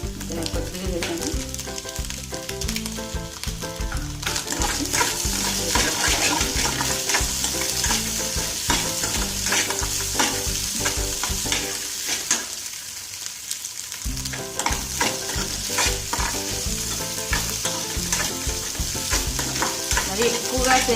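Eggs fry and sizzle in a pan with light salt for semiya egg noodles, a steady close sizzle with stirring scrapes throughout, briefly dipping quieter midway before resuming.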